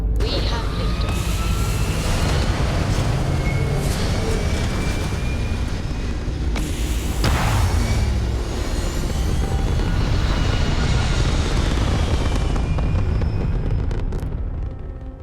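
A spaceship lifts off in Starfield with a loud, continuous thrusting roar and deep rumble that holds steady for many seconds and eases slightly at the end.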